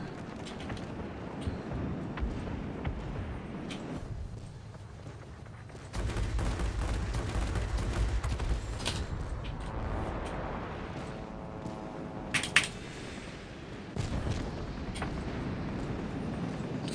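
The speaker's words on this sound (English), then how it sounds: "Fouled up my bomb attack" Bomb drops and explosions in the air-combat game World of Warplanes, a broad rumbling blast bed over engine drone with a few sharp bursts and crackling impacts, loud and sustained through the middle and end.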